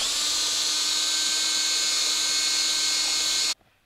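An 8.5mm drill bores through a metal part of an EQ5 telescope mount, a loud, steady high-pitched whine that runs continuously, then cuts off abruptly near the end.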